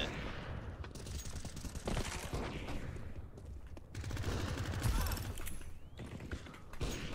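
Pistol gunfire in Counter-Strike 2 crackles through a dense, busy game mix, with repeated sharp shots and mechanical clatter over several seconds and no speech.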